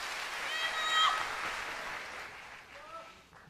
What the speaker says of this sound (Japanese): 大きな拍手が沸き起こった。